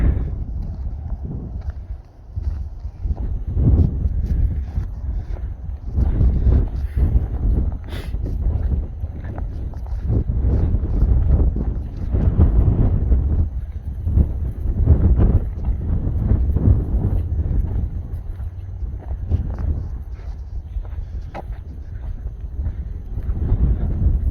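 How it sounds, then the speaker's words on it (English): Strong, steady wind roaring and buffeting the microphone for the whole stretch, with no speech over it. "It is so windy."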